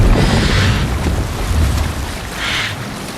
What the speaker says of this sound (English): Good sailing wind here, Eivor.